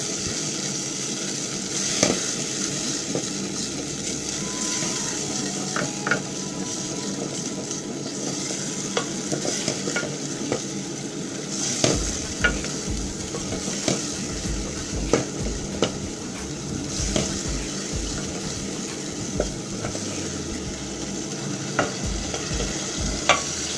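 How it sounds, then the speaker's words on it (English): Eggs for an egg curry sizzle in a pan while being stirred, a continuous frying hiss punctuated by irregular scrapes and light knocks of the utensil against the pan. "I stir as I wait for them to"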